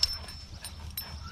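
Doberman puppy whimpering in short, soft, high yips, a few faint cries spread over a second or so, close by and fairly quiet.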